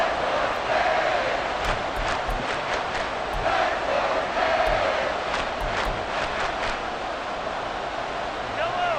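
Stadium crowd in the Madden NFL 24 football game roars steadily through the final seconds of a close contest, a continuous wash of cheering with sharp whistle-like accents, heard under broadcast commentary.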